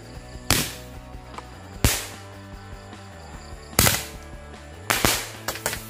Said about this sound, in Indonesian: Wow, 2 buah mercon tora-tora 40 lesutan.